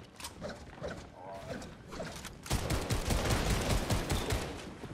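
Shotgun firing in the video game Fortnite, a dense burst of loud overlapping blasts and mechanical clatter starting midway and continuing to the end, preceded by quieter game sounds.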